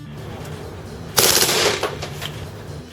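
A KWA H&K MP7 airsoft gun fires one short, loud full-auto burst, followed by a few weaker trailing shots over low background hum.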